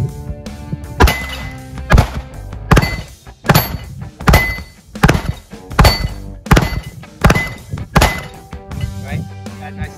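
An IWI Masada Slim pistol fired at an outdoor range with 115-grain Blazer and 124-grain American ammo, a series of about ten sharp, evenly spaced shots, loud and close.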